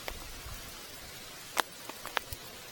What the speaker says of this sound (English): I'm now getting the benefit of all the plops coming off the tree above me in great big splodges.